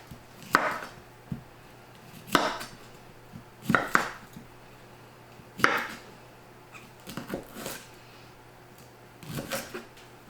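A knife chops broccoli on a cutting board in a series of sharp, irregularly spaced knocks, about seven distinct strikes with short pauses between them, close and fairly loud with no talk.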